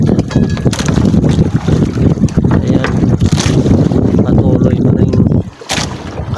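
A strong amihan wind blows over the open sea at night, roaring and buffeting close up in loud, continuous gusts, with a brief lull just before the end.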